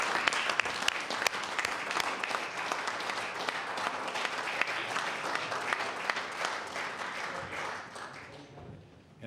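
Members of the House of Assembly applaud visiting farmers in the chamber, a long even round of clapping with sharp individual claps, fading out toward the end.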